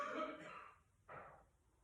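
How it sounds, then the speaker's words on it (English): A man coughing in a home kitchen, heard as two faint, muffled bursts at a distance about a second apart. "You get to hear my husband coughing and playing in the kitchen and whatever."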